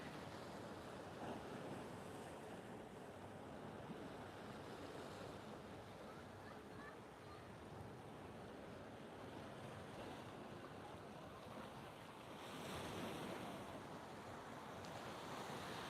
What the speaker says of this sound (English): Look at the waves coming in, you never really get waves over here